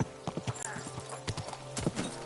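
Horse hooves clip-clop in a steady, uneven rhythm in the medieval game Kingdom Come 2, close and clear, with a faint whinny-like tone in the background.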